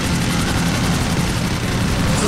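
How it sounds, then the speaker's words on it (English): Helicopter in the video game GTA, a steady loud rotor and engine drone filling the whole clip, with a faint voice beneath. "Come on, helicopter! Yes, I got one!"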